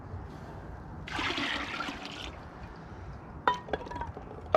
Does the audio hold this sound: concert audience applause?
no